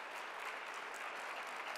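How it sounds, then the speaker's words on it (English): Audience applause at a college MLK keynote lecture, a steady wash of clapping heard faintly from a distance, brief and uniform. "let's give a round of applause to Dr."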